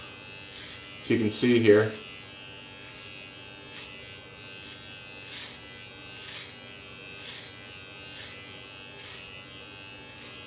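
Brio Axis electric beard trimmer buzzing steadily at low volume while trimming a beard, with a brief burst of speech early on over the hum.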